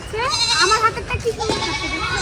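Grazing goats on a roadside give a few close, quavering bleats that rise and fall, mixed with nearby human voices.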